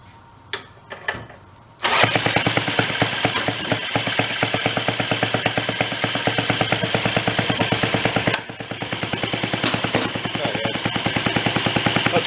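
An old donated reel mower's small engine is pulled and catches after a few brief cranking tugs, then runs loud and close with a rapid, even putter, dipping briefly once before settling back to a steady idle.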